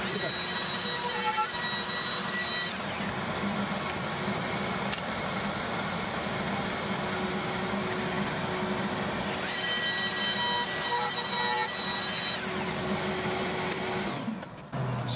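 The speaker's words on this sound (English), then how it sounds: "I'm using Tren's little cordless T18 router for this." A Trend T18 cordless router cuts birch plywood with a continuous, steady whine that shifts slightly in pitch as it works, then cuts off abruptly at the end, with a brief murmur in between.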